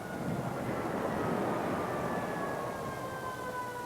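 A fire truck siren wails steadily from a distance with a slowly falling pitch as it passes, the tone fairly faint over a broad wash of traffic noise.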